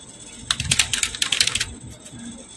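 Quick bursts of keystrokes on a computer keyboard typing text into a table in Microsoft Word, crisp and close. The clicks come in an irregular run that thins out toward the end.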